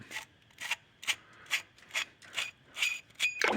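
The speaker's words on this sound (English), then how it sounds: "We'll go ahead and unscrew the cap from it." The cap of a motorcycle carburetor body is unscrewed, giving about nine short, even, scraping rasps of metal threads turning, close and quiet with small pauses between turns and no speech.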